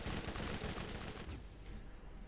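Gunfire in Borderlands aimed at a giant barrel on a zombie enemy: a dense burst of rapid, loud shots that tapers slightly toward the end.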